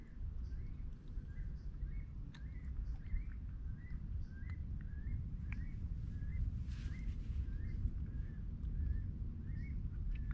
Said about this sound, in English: Got some baby cormorants over there, you can hear them squawking.